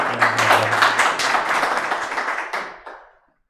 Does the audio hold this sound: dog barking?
no